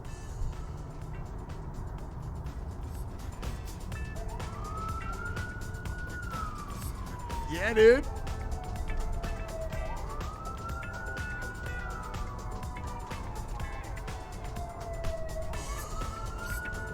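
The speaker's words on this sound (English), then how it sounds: "That's right, you guys are hearing sirens." Emergency sirens wail in long rising and falling sweeps, repeating several times at moderate distance across a dark night near the Colorado River, with a brief man's remark near the middle.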